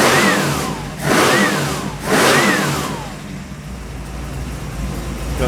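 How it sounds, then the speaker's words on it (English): Small-block Chevy 383 V8 with a roller cam, running on an engine test stand, blips sharply three times with quick rising sweeps, then settles back toward a steady idle; loud and close, with no one talking. "The beauty of a roller cam, she revs very quickly."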